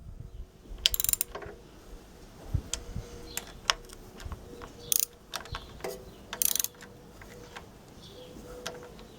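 Bolts being tightened on a Lister LD1 diesel engine, with irregular sharp metallic clicks and ratcheting ticks scattered over several seconds, close up and fairly quiet.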